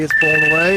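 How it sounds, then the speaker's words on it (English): A cellphone gives its low-battery alert, a steady electronic tone with a short rising chime, sounding clearly over a voice in a workshop during a foam boffer long sword build. "That's my phone dying again."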